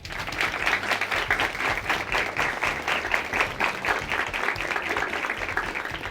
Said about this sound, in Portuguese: Uma salva de palmas para vocês mesmos, gente.